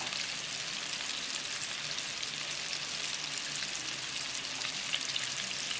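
Fish pieces for crispy popcorn fish deep-frying in a small fryer, a steady, dense bubbling sizzle of hot oil that holds at an even level throughout with no talking.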